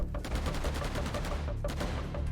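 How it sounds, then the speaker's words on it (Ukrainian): Rapid shotgun blasts in a Roblox zombie shooter game, a fast close series of sharp bangs repeating for about two seconds with a short gap in the middle. "Що це в мене за пушка така, блін? Це дробовик."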